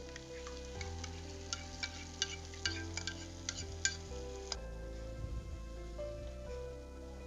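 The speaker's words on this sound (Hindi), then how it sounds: "2-3 मिनट इसको भूनेंगे" Masala sautéing in a pot for goat trotter paye, with soft steady sizzling and frying under repeated sharp stirring clinks of a spoon against the pot, then a quieter simmering sizzle.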